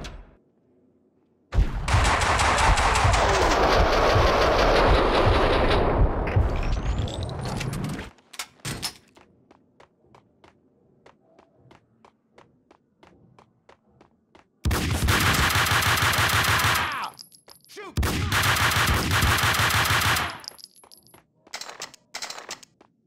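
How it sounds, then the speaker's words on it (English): An MP5 submachine gun fires in Max Payne 2, with a long sustained burst followed by two shorter loud bursts separated by quiet gaps and a few scattered clicks and shots. "At least made those bullets in the MP5 count"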